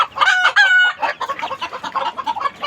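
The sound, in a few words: chickens and chicks clucking after a hen laid an egg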